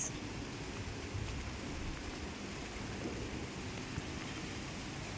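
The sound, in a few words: rain falling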